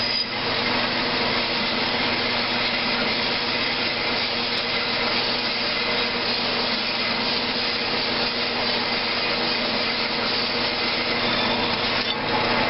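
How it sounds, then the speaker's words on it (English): A power saw fitted with a metal cutting blade runs continuously as it cuts metal, a steady close grinding whine that holds at one level throughout without pause. "That's just the metal cutting blade."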